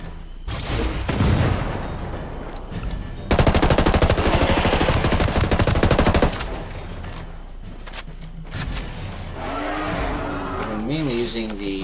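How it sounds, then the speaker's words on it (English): Mark 14 rifle fire in a shooter game, rapid rattling bursts that are loudest and densest in the middle, with someone talking over and between the shots. "Using the Mark 14 so I can get quick, accurate shots"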